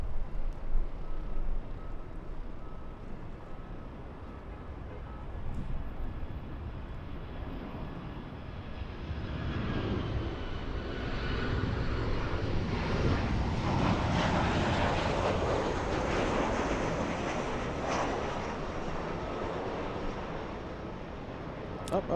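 A Lufthansa jet departing for Frankfurt, its engine roar swelling from a distant rumble into a louder, broad drone that peaks midway and holds, with no voices over it.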